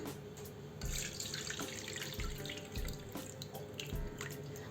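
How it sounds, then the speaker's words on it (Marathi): Liquid, whey from curdled milk, pours through a strainer and splashes steadily with small dripping and trickling sounds, close by, no voices. "यात गाळणी ठेवू आणि गाळून घेऊ"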